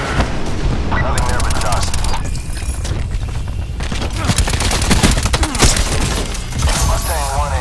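Aircraft strafing run in Call of Duty Black Ops 4, dense bursts of machine-gun fire with cracking impacts and debris layered over a constant loud battle din, with a voice briefly speaking over it.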